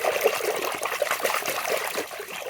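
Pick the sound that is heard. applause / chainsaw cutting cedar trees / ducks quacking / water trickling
water trickling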